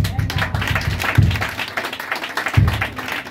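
A church congregation at a worship service applauds with dense, steady clapping. Some louder thumps and voices mix in through the short stretch.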